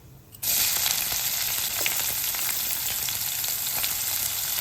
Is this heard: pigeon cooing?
no